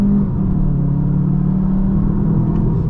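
A 2023 VW Jetta GLI accelerating hard from a standstill with wheel spin, heard from inside as a loud, steady engine drone and low road rumble that holds without a break.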